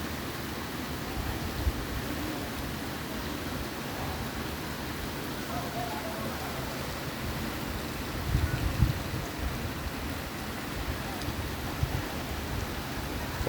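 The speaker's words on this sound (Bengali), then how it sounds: "প্রচণ্ড বৃষ্টি হইতেছে, রাস্তাঘাট সব হয়ে গেছে।" Heavy storm rain pours down in a steady, dense roar with no letup, with a few louder gusts near the middle.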